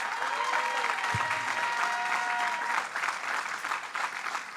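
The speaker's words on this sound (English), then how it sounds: "give them a round of applause" A crowd at a political rally in Albany applauds, a dense and continuous wash of clapping that stays steady for several seconds.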